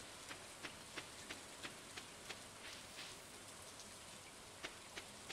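Steady rainfall from the Stardew Valley video game patters evenly and softly, with regular faint taps or drips punctuating it about every third of a second.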